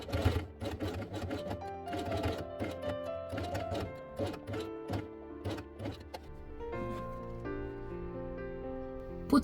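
A sewing machine stitches felt pieces for an ice cream-themed quiet book with pink thread, running in steady rhythmic bursts of needle chatter with brief pauses, fairly close and alone without talk.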